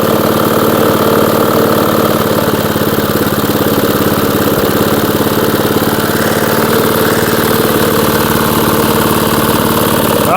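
A 1982 JCPenney lawn mower engine runs steadily at idle after sitting unused, a loud, continuous mid-pitched small-engine drone with constant vibration that fills the whole stretch without any break.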